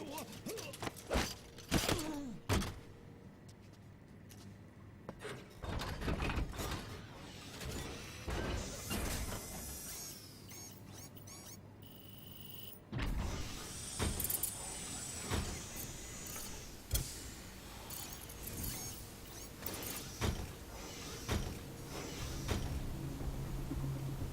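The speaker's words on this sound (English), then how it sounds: "The walker gear is mine." A Walker Gear mech from Metal Gear Solid V moves with mechanical clanks, creaks, servo whines and heavy metallic thuds, some sharp bursts loud and close, the rest a quieter shifting rumble.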